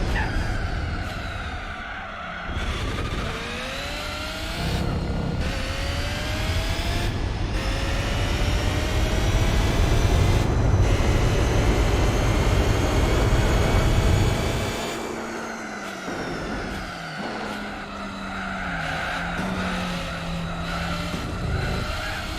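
Racing cars in Gran Turismo 4 roar past with a loud sustained engine drone rising and falling through gear changes, while tires squeal in long skids that dip and pick up again.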